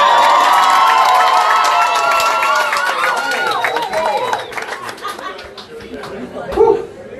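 A poetry slam audience in Suva cheers and whoops loudly, then fades into scattered chatter. One shrill shout rises near the end. Voices fill the whole stretch.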